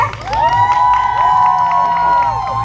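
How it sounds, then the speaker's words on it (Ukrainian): Children at a camp costume contest cheer and shout with high, sustained excited voices over scattered clapping, a loud, close crowd filling the whole moment. "Аплодисменти."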